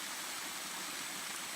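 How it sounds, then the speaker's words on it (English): Small waterfall spilling from an outdoor hot spring tub into a river, a steady, soft broadband rush of trickling water with no voices. "That waterfall. That's coming out of our hot spring tub that we were just in."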